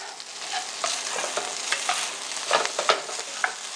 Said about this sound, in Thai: ยีไข่กับข้าวให้เข้ากันดีค่ะ